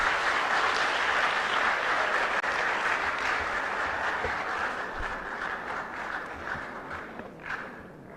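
A crowd applauds a contestant taking the stage at a national public speaking competition grand finale, dense sustained clapping that holds strong for several seconds before thinning and tapering near the end.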